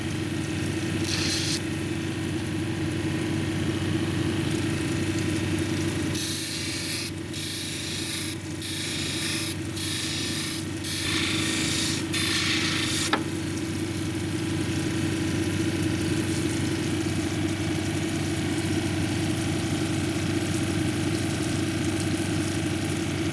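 Unakite cabochon ground on a water-fed lapidary wheel with 280 grit: a steady, close motor hum runs throughout, with a few bursts of hissing water spray near the middle and no talking.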